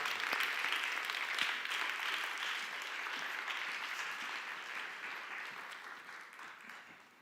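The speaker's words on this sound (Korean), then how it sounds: "우리 박수로 환영하겠습니다." A crowd at a church youth service claps steadily and enthusiastically, welcoming a guest pastor, the applause gradually fading toward the end.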